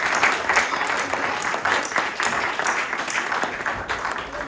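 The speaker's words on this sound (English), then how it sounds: "Another round of applause for our panelists" Audience applause for a panel at a development-focused side event, a steady dense wash of many hands clapping at close to moderate distance, sustained evenly throughout with no voices.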